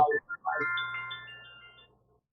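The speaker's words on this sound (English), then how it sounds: "That was my take my insulin alarm." An electronic phone alarm tone, an insulin reminder, plays briefly, a short melodic chime that rings out and fades away into silence.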